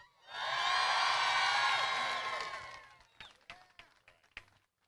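Crowd at a state fair wedding ceremony erupts in loud whoops and cheering for about two seconds, then fades into scattered shouts and claps.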